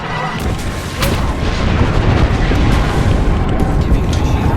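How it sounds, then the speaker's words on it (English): Continuous heavy rumble of airstrike explosions in Apex Legends, a dense rolling barrage of booms that stays loud throughout with little pause between blasts. "I'm opening the skies. Heads down. Airstrike range is locked."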